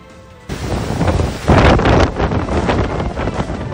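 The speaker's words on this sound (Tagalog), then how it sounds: "Walang humpay ang malakas na buhos ng ulan at hanging dala ng Super Typhoon Nando sa Santa Ana, Cagayan." Super Typhoon Nando drives heavy rain and strong wind in Santa Ana, Cagayan, a loud, continuous roaring rush with wind buffeting the microphone that swells sharply after a moment and keeps pounding, with no voices.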